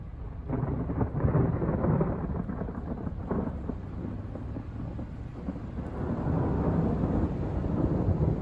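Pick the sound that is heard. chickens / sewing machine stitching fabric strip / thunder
thunder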